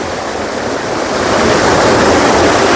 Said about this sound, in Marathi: या ठिकाणी एक धबधबा तयार होतो तो धबधबा देखील दाखवणार आहे